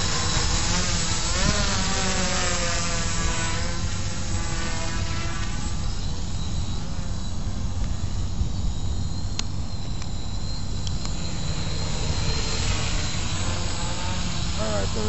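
A blue Spider quadcopter drone flying inverted buzzes with a steady high-pitched whine that rises and falls as the throttle changes, close and continuous throughout.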